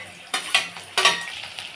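Chopped onion going into a hot pan of oil with urad dal, curry leaves and dried and green chillies, giving a couple of bursts of sizzling and stirring scrapes that settle into a steady close fry.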